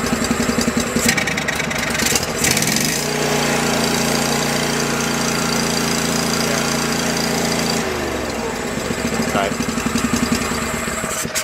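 A small engine on a Go-For digger, an estate-sale find, chugs at a steady idle with a low, even drone in the middle of the clip, framed by sharper clattering before and after.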